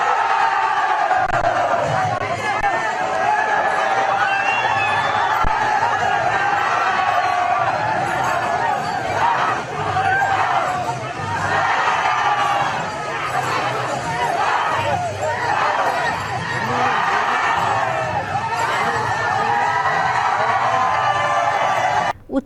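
Large crowd at the Aryankavu Pooram temple festival, a sustained roar of many voices with shouting and cheering, loud and dense throughout, rising in waves midway with a news narrator speaking over it.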